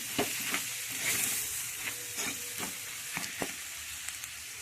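Onions and potatoes stirred in a frying pan for aloo sagu, soft oil sizzle beneath a series of scraping spoon strokes against the pan, close and fairly quiet.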